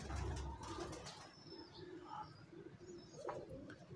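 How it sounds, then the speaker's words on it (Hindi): Pigeons coo steadily in a low, rounded rhythm, close and moderately loud, with a few higher chirps and faint background noise and no talking. "बिल्कुल अपनी परफेक्शन में ये बने हुए कबूतर हैं जी दोस्तों"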